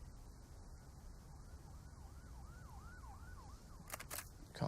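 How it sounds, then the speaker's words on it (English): Police sirens wail in the distance in Counter-Strike on the Train map, a faint rising-and-falling siren cycling repeatedly over a low background rumble, followed by a couple of sharp bursts near the end. "Cops rolling their sirens off in the distance, Henry."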